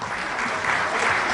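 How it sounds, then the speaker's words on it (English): Audience at an award gala clapping for jurors called onto the stage, a brief, steady burst of many hands at moderate volume, with no voices over it. "A round of applause."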